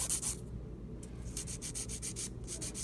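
A nail file rubs against an acrylic powder overlay on a fingernail in quick, rhythmic scratchy strokes with short pauses, close but quiet.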